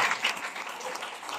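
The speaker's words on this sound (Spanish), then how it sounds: "Denle un aplauso al Señor Jesús." A church congregation applauds for Jesus during a service, producing a dense, steady wash of clapping from many hands, moderately loud and without pauses.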